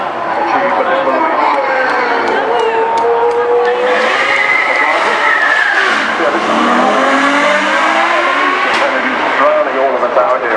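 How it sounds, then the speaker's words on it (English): Mercedes 6-litre naturally aspirated V12 supercar at the Goodwood Festival of Speed, loud rising and falling engine howls sweeping up through the gears, with crowd noise and commentary voices underneath. "It's a 6-litre naturally aspirated V12 from Mercedes, 800 horsepower. It's an absolute screamer."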